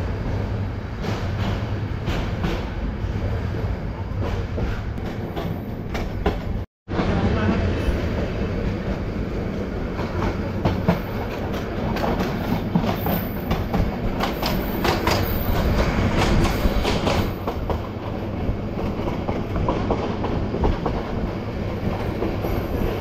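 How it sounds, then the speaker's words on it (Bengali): The Mohanagar Godhuli passenger train pulls out of Feni Junction station, its carriages rumbling and clattering on the rails in a loud, continuous roll with rhythmic wheel clicks, after a brief dropout. "আমাদের ট্রেন ফেনী জংশন স্টেশন থেকে ছেড়ে যাচ্ছে।"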